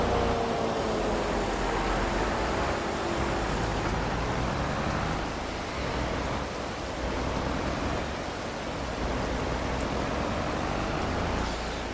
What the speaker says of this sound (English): How long is this supposed to rain?